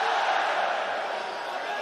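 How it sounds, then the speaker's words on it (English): A large arena crowd at an MMA fight in the Coca-Cola Arena roars and cheers steadily for Usman Nurmagomedov, a dense, continuous wash of voices with no breaks. "The Coca-Cola Arena crowd loving the work from Usman Nurmagomedov."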